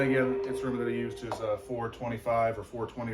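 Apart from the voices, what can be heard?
No distinct noise like a dog, phone or traffic.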